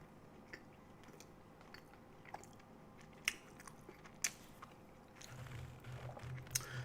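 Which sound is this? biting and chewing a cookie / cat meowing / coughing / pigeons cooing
biting and chewing a cookie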